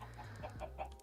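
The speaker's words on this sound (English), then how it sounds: "Such good orderly chickens." Chickens clucking in the Minecraft video game, a few short soft clucks in quick succession, fairly faint and alone.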